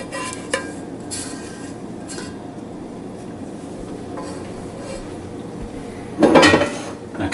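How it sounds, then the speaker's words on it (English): Macaroni and cheese with a milk mixture being stirred in a metal pot, a steady scraping and clinking of spoon against pot throughout, rising to louder rattling near the end, with no talking. "We'll mix all of that up. And we want to mix this until it's well combined."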